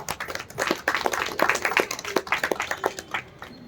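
An audience at a spiritual discourse claps loudly together, a dense, steady patter of many hands that holds for several seconds with no voice over it.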